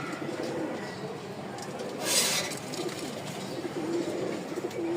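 A male Giribaz pigeon coos in repeated low throaty phrases among other birds, over a steady background rustle with a short loud noise burst midway.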